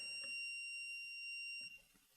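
Kwikset Kevo smart lock beeping after batteries are inserted, a steady high electronic tone of about a second and a half that stops abruptly, faint and close, with light handling noise.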